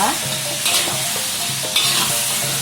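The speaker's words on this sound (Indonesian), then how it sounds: "Kita aduk sampai merata." Salted fish, eggplant and jengkol sizzle in a frying pan while a utensil stirs them, scraping in a steady repeated rhythm over constant frying crackle.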